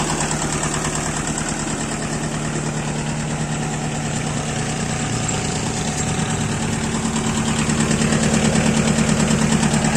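An old tractor engine idling, a steady, loud, low mechanical drone with a fast rhythmic throb and vibration that holds unchanged throughout, no voices.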